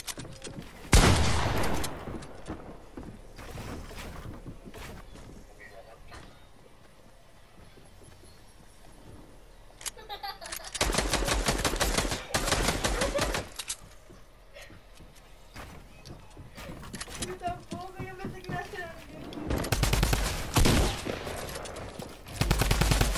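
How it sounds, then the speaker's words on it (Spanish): Shotgun fire in a video game match comes in several loud, close bursts of rapid shots, separated by quieter gaps of background game noise and occasional talk. "Hostia, que tiene una escopeta esa."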